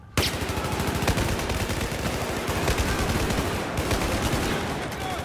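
Sustained, dense gunfire in the video game Battlefield 4, during the Baku campaign mission, with rapid automatic bursts and sharp shots crowding together loudly from start to end. Game ambience and faint voices sit underneath.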